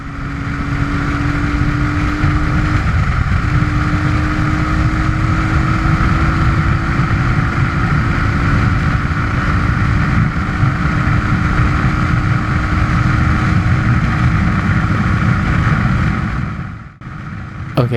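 A Suzuki DR350S motorcycle at speed on a troubled ride: a loud, continuous engine drone with heavy wind rumble, steady throughout, with a brief dip near the end.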